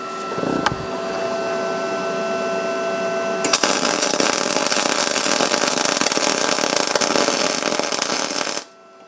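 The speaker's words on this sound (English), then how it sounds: "Now I am welding this with no bevel, so of course the bead is going to sit higher." A steady, loud crackling buzz of MIG welding with an Arccaptain MIG250 on an unbevelled joint at reduced wire speed, running continuously for several seconds after a short start before cutting off abruptly near the end.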